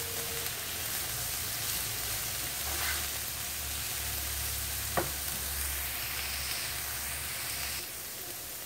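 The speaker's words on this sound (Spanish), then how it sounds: "vamos a guisar hasta que los chiles estén cocidos y las cebollitas también" Chiles and small onions sizzle in a cooking pan, a continuous, even frying hiss with a low background hum and a couple of faint clinks, no voices.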